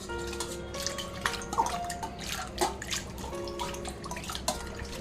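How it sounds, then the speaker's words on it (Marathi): Water runs and splashes as a copper or brass pot is rinsed with tap water, with scattered drips and clinks over a steady low background hum. "ह्यालासुद्धा आता नॉर्मल पाण्याने धुवून घेऊयात"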